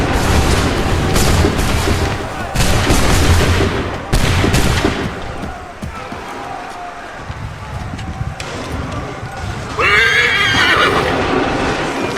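Musket volleys in the game Assassin's Creed 3 crack out in loud bursts amid battle noise, with horses neighing and hooves clattering throughout.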